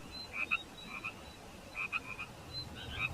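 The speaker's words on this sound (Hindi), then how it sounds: "बाहर से मेंढकों की आवाज आ रही है" Several frogs croak outdoors in short, repeated chirping bursts, some near and some farther off, over a quiet night background.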